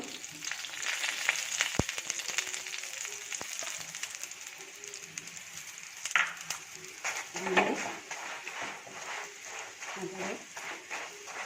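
A paratha fries in ghee on a pan with a steady crackling sizzle, sharp spatula taps and scrapes in between, and a voice talking quietly over the frying.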